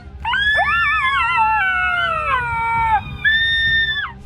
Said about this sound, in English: The desert night had a silence that felt almost sacred, broken only by the distant howl of a jackal